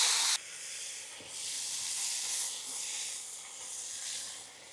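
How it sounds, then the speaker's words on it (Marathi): Chopped fenugreek leaves (methi) with garlic fry in a hot pan, giving a steady hiss and sizzle that opens loud and then settles into a continuous softer crackle. "त्याच्यामध्ये आपण चांगल्या प्रकारे तिला फ्राय करून घेणार आहे"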